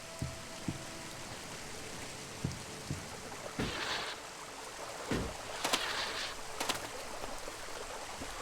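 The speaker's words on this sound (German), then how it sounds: "Alter, der regnet." Rain falls in the video game ELEX as a steady, soft hiss, broken by scattered clicks and a few brighter splashy bursts.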